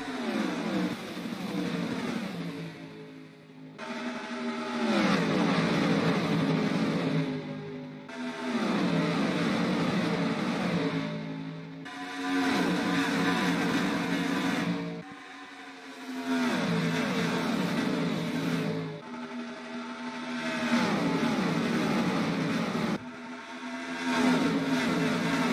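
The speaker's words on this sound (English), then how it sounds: "Petty gets a good start as he leads the first lap with Rob Moroso up to second" Stock cars race around a track with Kyle Petty and Rob Moroso, loud engines roaring and swelling as cars pass in repeated waves, pitch sweeping up and down with each pass, no talking.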